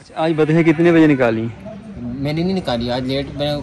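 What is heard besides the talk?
No everyday noise stands out behind the speech.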